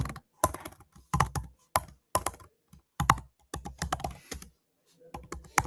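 Someone types on a computer keyboard in quick irregular bursts, the key clicks close and crisp with brief pauses between runs, no talking.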